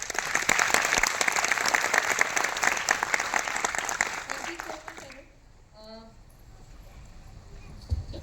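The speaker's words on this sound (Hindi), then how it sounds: "एक जोरदार ताली हो सकती है।" Audience applause at a live stage event, a dense burst of many hands clapping loudly for about five seconds, then cutting off abruptly into quieter room sound with a faint tonal chime and a thump near the end.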